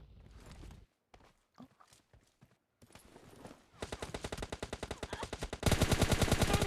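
Gunfire in PUBG Mobile Lite: a few scattered single shots, then rapid automatic bursts that grow louder and denser toward the end, closing in a sustained close-range barrage.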